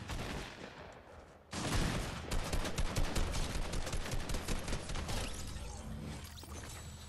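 Fortnite gunfire, heard as a sustained loud burst of rapid shots and clatter that starts abruptly and runs for several seconds with no voices.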